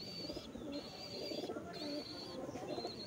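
Pigeons of the Chatiyal and Kagzi breeds coo softly and repeatedly close by. A faint high chirping runs over the low coos, with no voices.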